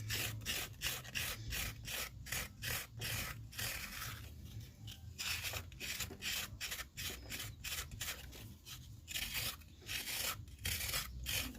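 A kidney rib scrapes around the inside of a clay pinch pot, thinning the walls, making steady repeated rasping strokes in a quick rhythm, close and fairly loud, with brief pauses between passes and no talk.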